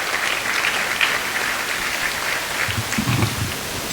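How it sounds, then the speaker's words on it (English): A gala crowd at the American Skin Association's 2007 event claps together in a thick, even wash of applause that holds steady throughout, with a brief low rumble near the end. "Let me give a round of applause to all of our major supporters."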